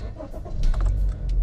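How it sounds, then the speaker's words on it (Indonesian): A 2016 Honda HR-V E with a CVT is started: quiet cabin ambience, then the engine cranks and catches about halfway through and settles into a steady, close idle rumble. "Sekarang kita coba starter."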